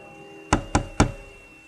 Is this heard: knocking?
yes